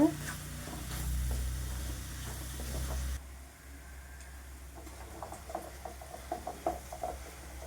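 Potatoes fry with masala in a pan, a steady sizzle and stirring scrapes that drop quieter partway through, leaving softer crackles and small pops near the mic.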